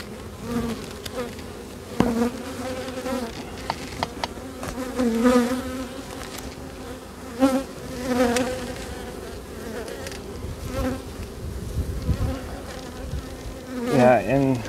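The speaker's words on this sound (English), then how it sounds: "Lots of bees on there, lots of leftovers, lots of brood." Honey bees buzz steadily around an open beehive, a close, continuous droning swarm with individual insects swelling louder as they fly past.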